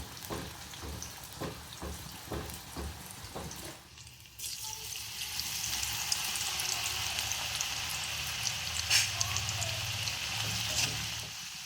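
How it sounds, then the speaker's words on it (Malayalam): Freshly cut sweet potato pieces dropped into hot oil set off a steady, bright sizzling hiss after a few seconds of quieter tapping, continuing evenly and fairly close with no talking. "കുറച്ചിട്ട് പൊരിച്ച് നോക്കുക ആദ്യം എങ്ങനെ ആവുന്നു നോക്കാം"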